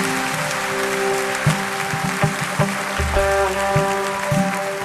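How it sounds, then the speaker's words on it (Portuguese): Church congregation clapping in praise during a worship service, a broad wash of applause with scattered sharper claps over sustained music tones and a low rumble. "Pode aplaudir ao Senhor."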